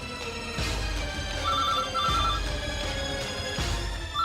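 A telephone rings in a tense household scene from a Telugu TV serial: repeated electronic bell tones sounding in bursts at a steady pace over a low background hum, with no one talking.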